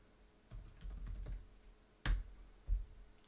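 Keys clatter on a computer keyboard as a network command is typed, a few quiet clicks and a short burst of taps followed by two sharper keystrokes, close by and without talk.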